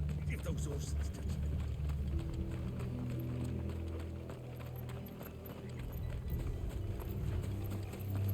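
Horse hooves clip-clop in Final Fantasy 16, a rhythmic clatter of several horses over a low rumbling bed, with characters talking above it.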